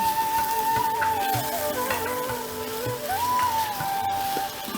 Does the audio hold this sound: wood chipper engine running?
no